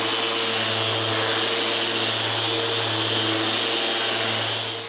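Drum sander working mahogany and maple boards: a steady, loud, close whirring drone with a low motor hum, constant throughout before trailing off slightly at the end.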